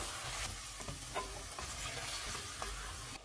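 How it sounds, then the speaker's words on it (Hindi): Tomatoes get stirred into frying masala for handi chicken biryani, making a strong continuous sizzle broken by several spoon scrapes and stirring strokes, close and steady with no talking. "टमाटर डालेंगे, इनको मिक्स करेंगे।"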